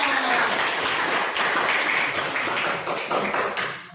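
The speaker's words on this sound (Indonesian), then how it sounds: "Tepuk tangan." A class of students in an Indonesian Islamic religious education lesson breaks into dense, continuous clapping that stays fairly loud and even for the full four seconds, tapering slightly at the end.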